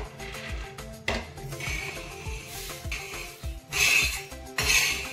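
Roasted sesame seeds scraped from a pan onto a plate, with close metallic scrapes, spoon taps and rustling pours in uneven bursts, louder toward the end, with no talk.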